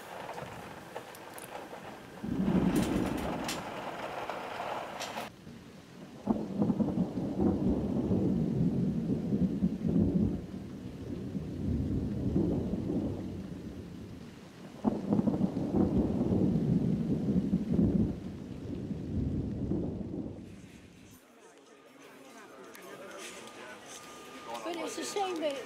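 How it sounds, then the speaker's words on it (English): Rolling thunder rumbles in long, heavy waves with a light rain hiss underneath, booming loudly several times and then easing between bursts, while a voice talks over parts of it. "Light bit of precipitation."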